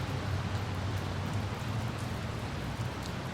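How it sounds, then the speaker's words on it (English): Steady rain falling outside in the video game Kidnapped Girl, an even, close wash of hiss and patter with no letup and no voices. "It was raining outside."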